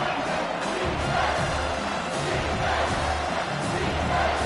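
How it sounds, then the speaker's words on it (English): A stadium crowd roars loudly and continuously through a third-down play in the NCAA 25 college football video game, a dense, steady wall of cheering with no break. "this crowd will blow out a vocal cord to help this defense"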